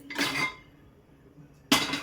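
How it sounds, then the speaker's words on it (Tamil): Two metallic clanks, a heavy pressure cooker set down on a stove grate, separated by a quiet pause of over a second. "குக்கர் ஒன்று வச்சுக்கலாம்."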